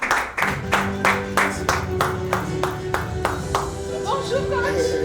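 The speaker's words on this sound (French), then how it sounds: "Merci d'applaudir coach Chabel Sepoin, s'il vous plaît." An audience claps in a rhythmic, regular beat, distinct claps in unison rather than a dense roar, welcoming a sports coach at an event on health and well-being, with a voice speaking over it toward the end.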